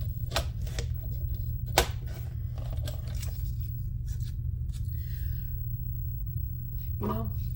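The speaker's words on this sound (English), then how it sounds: "if this paper trimmer will do it" A scrapbook paper trimmer with a fairly new blade is cutting scrapbook paper. Sharp clicks and brief scraping strokes are heard close up, spaced irregularly, over a steady low hum.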